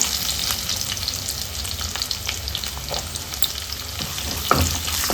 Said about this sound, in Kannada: ಕಟ್ ಮಾಡಿದ ಈರುಳ್ಳಿ ಸೇರಿಸ್ಕೊಳ್ಳೋಣ